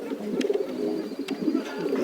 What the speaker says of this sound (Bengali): দেখেন একজোড়া বাসিরাজ কোকা। জি ভাই প্রচুর ডাকে।